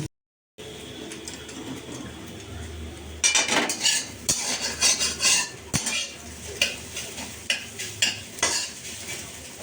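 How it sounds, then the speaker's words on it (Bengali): Scrambled egg bhujia fries in a pan with a steady sizzle while a utensil stirs and scrapes against the metal in repeated close, sharp knocks. "তড়কায় দেবো বলে ডিমের ভুজিয়াটা করে রাখছি। এটা আমি আলাদা করে ভেজে আগে তুলে রাখবো"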